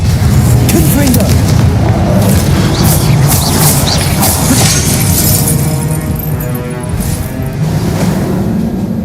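Confringo fire spell blasts in the video game Hogwarts Legacy, a dense, continuous barrage of loud crackling explosions and shattering bursts mixed with game music and effects, with a voice speaking over it throughout.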